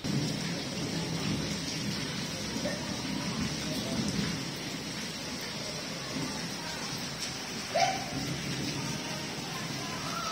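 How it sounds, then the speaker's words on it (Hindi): Heavy rain pours down in a dense, constant roar, with a brief louder rattle near the end. "बहुत तेज बारिश आ गई"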